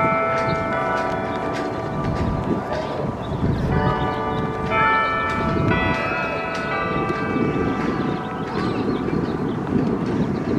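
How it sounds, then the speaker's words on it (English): Mission church bells in Oceanside, California ring continuously, their overlapping tones clanging and sustaining, with wind rumbling against the microphone in the background. "How awesome is that, to hear the bells ring?"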